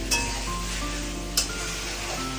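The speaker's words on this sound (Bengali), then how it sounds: "এগুলো কষানো হচ্ছে" Mutton and potatoes sauté (kosha) in a pan with a steady, soft sizzle, broken by two light metallic clinks of a stirring utensil.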